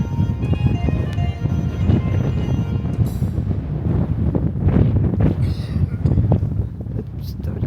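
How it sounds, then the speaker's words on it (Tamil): Cold sea wind by the old fortress stones on the waterfront in Sønderborg, Denmark, roars steadily into the microphone, a loud, continuous buffeting rumble while someone talks over it. "கடல் சரியான குளிர் காத்தாக இருக்குது."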